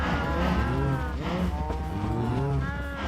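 Several cows in a Minecraft-style game moo loudly and overlap, long low bellows carrying across the whole stretch with no pause.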